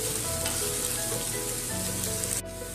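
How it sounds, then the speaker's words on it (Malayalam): Chopped carrots sizzle as they sauté in a pan for omelette noodles, a steady dense frying hiss broken by faint stirring scrapes, ending in one abrupt clack, with no voices. "ഇതിലേക്ക് നമുക്ക് അരിഞ്ഞു വെച്ചിട്ടുള്ള ക്യാരറ്റും കൂടെ ഇട്ട് കൊടുക്കാം. ഇത് നന്നായിട്ടൊന്ന് വഴറ്റാം."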